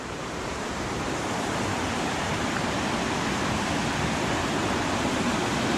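A small mountain creek on a forest loop trail in Olympic National Forest, Washington, rushes in a continuous, dense, fairly loud wash of flowing water with no pauses, and no voices are heard.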